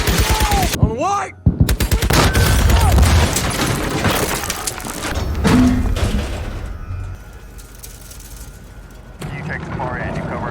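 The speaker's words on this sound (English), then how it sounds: "Gunfire erupts, the square explodes into chaos." Chaotic war-film battle in a town square during World War II, rapid machine-gun bursts and single shots crackling over booming impacts and rumbling, with shouted voices cutting through and the firing thinning out later.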